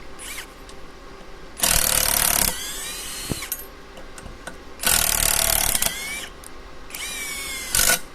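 A cordless impact wrench fitted with a hex socket adapter gives three loud, close bursts of whirring and rattling, each lasting about a second, with quieter gaps in between.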